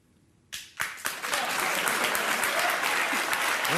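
A studio audience at Bill Maher's talk show breaks into applause, starting with a few sharp claps and then swelling into loud, steady, dense clapping that keeps going.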